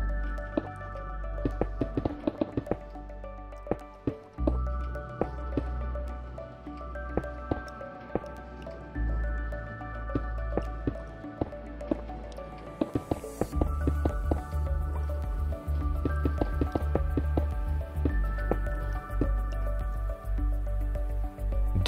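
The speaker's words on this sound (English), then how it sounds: "grab a bucket of water and fill all of the spaces on top of the dripstone" Water being poured from a bucket onto dripstone blocks in Minecraft, heard as a long run of small wet drips and squishy splashes over steady game ambience, with no talking.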